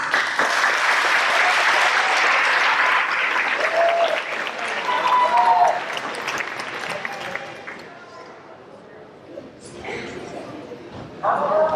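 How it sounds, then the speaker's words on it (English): An audience at an eighth grade awards program breaks into loud, sustained applause that fades after several seconds, with a dog barking and brief voices heard as the clapping dies down. "Round of applause."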